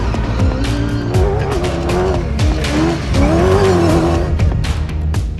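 A rally car races flat out over desert dunes in Baja, its engine revving hard and dropping in pitch through gear changes and jumps, with tyre scrabble and loud, close, continuous mechanical roar.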